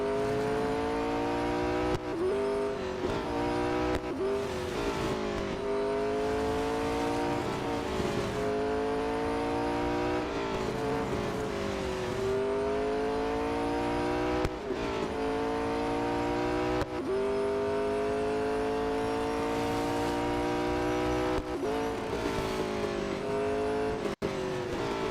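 A race car in the Real Racing 3 mobile game roars continuously at high revs, its engine pitch climbing through each gear and dropping at every shift. Brief tire squeals break in as it corners.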